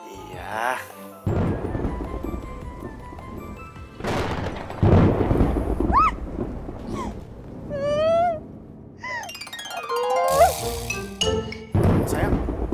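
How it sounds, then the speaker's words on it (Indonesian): Heavy rain with rolling thunder, loud and steady in bursts, mixed with chiming tones and voices speaking over it. "di sini lagi hujan deras nih"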